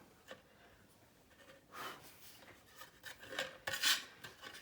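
A modeling scriber is scraped clean of small plastic shavings, making short raspy rubbing and brushing strokes that grow denser and louder toward the end, close and quiet overall.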